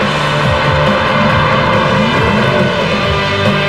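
Mercedes-Benz Lorinser CLK 430 (C208) engine under way, a steady, loud roar that holds near and constant throughout with no talk.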